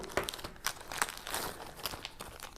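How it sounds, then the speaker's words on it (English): A small packet of picaridin bug repellent crinkles softly in hand, a series of light, close rustling crackles with no voice. "one little packet of picardin for the bug repellent"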